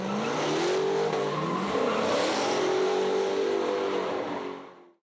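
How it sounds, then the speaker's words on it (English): Formula 4 race cars scream past at high speed, engines rising and falling in pitch with a hint of tire squeal, loud and sustained before fading away abruptly. "The Formula 4 cars are a popular choice for students who really want to go fast."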